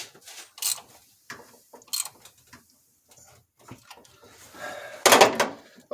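A ratchet wrench with a 5/8 socket works the alternator belt tensioner on a 1998 Chevy K1500, giving a string of sharp clicks and clunks in short irregular bursts, close and alone.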